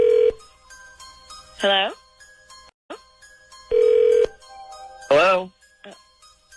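A telephone rings during a radio show call: two bursts of ringing tone with warbling electronic chirps between them, fairly close, while a voice answers and greets the caller.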